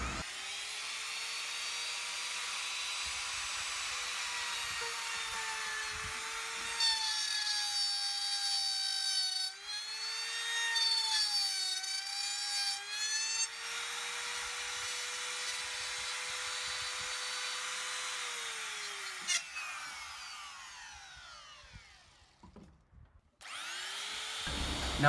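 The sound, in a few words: cutting a mortise in wood for a mortise and tenon joint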